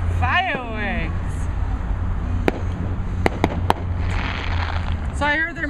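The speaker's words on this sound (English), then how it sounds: "It's fireworks. Fireworks." Fireworks explode at Texas Station with several sharp, crisp cracks and pops spread through the moment, close and loud, while people talk and a vehicle hums nearby.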